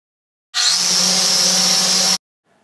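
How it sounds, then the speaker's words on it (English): A router with a quarter inch straight bit cuts letters into a reclaimed wood sign, giving a loud, steady high-pitched whine that starts abruptly, holds for about one and a half seconds and then stops. "The bit was slipping in the collet and I didn't realize it, so I had to come back and go back over it and get a little bit deeper."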